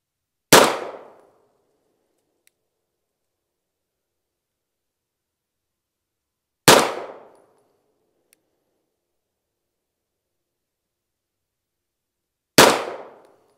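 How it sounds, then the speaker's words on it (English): Three slow, deliberate pistol shots from a Wilson Combat EDC X9 fired at a 20-yard target, each a sharp, loud crack with a quick decay, spaced about six seconds apart with silence between. "I'm just going to do slow fire for 5 shots"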